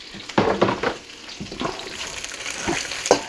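Celery dropped into a hot pan of melted fat, crackling and sizzling with bursts of stirring and scraping, close and steady with brief louder flare-ups.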